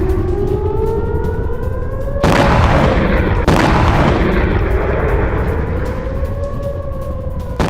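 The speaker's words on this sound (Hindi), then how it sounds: "ये देखिए ईरान का बैलिस्टिक मिसाइलों से बहुत बड़ा हमला।" Iranian ballistic missile attack: a wailing air-raid siren rises and falls throughout, broken by two loud, heavy booming blasts close together early on, with no voices.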